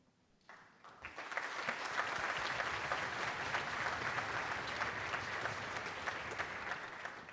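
Young school band audience breaks into sustained applause after a performance, the clapping rising within a second and holding steady and full through to the end, with faint crowd murmur underneath.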